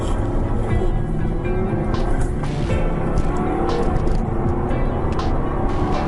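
A Jaguar XKR-S sports car is heard from inside while driving, with a steady, loud engine drone and road roar that runs continuously throughout.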